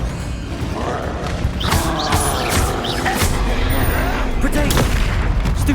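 Confringo spell blasts go off in Hogwarts Legacy combat, loud booming bursts and crackling impacts layered over continuous battle noise, with voices mixed in.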